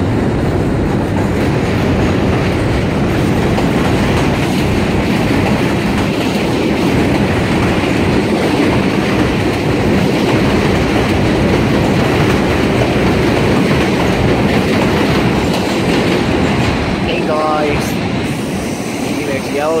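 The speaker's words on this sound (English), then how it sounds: "Yeah, the diesel train right over there, like the brown one." A diesel work train on the New York City subway near 207th Street rolls past, its steady rumble and clickety-clack wheels filling the scene, with a brief squeal of wheels near the end.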